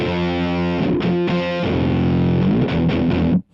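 Electric guitar run through an Emma Electronic Okto-Nøjs dual octave pedal, playing thick, heavily distorted sustained chords with brief rhythmic stops and pitch slides, loud and alone, ending with a sudden cutoff.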